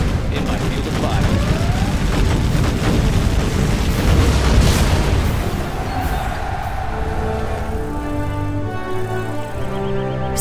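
Dense, continuous rumbling explosions and bursts from Command and Conquer Generals as a Scud launcher is destroyed, with booming blasts layered over game music throughout.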